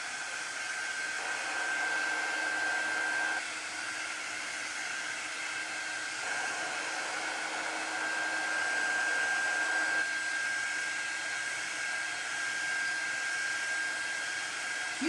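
A hair dryer blows steadily and fairly close over a chalk paint transfer, a continuous broadband whoosh with a thin high whine that shifts slightly as the dryer is moved, running without a break and with no talking.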